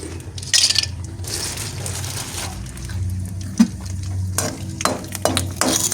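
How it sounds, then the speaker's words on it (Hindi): Papad frying in hot oil in a pan, giving a steady soft sizzle with occasional light clinks and scrapes of a utensil, close by and fairly loud throughout. "अब ये जल्दी से पापड़ फ्राई कर ले"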